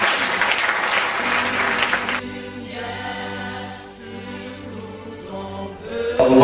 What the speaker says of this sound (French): Acclamez-vous vous-même.